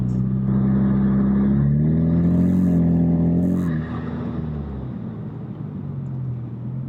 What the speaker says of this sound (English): The blow-off valve kind of like has this whoosh sound that's very slow and gradual.